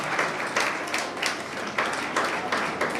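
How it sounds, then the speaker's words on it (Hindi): Audience at an award ceremony applauding, a dense steady wash of many hands clapping in pulsing surges from a crowd in a hall. "तालियां बजती रहनी चाहिए।"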